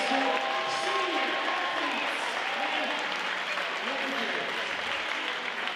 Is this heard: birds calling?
no